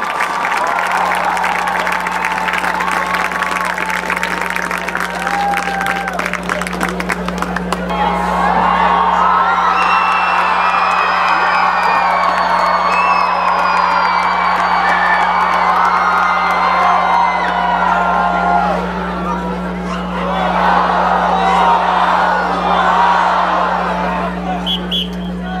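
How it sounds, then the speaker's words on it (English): Stadium crowd at a high school football halftime applauds, whoops and cheers loudly and steadily for the senior marching band members, with a brief dip before swelling again, over a constant low hum from the public address system. "let's give our Ames High senior band members a big round of applause"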